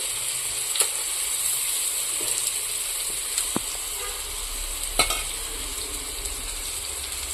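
Eggplant slices frying in oil in a pan give a steady, close sizzle throughout, broken by a few sharp clicks and knocks of a utensil against the pan.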